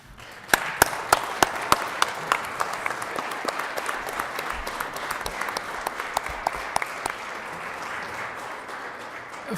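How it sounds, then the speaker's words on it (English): Applause in a Colorado Senate legislative session chamber, starting with a few sharp individual claps that quickly swell into sustained clapping from many people. "we'd like to welcome you with a round of applause."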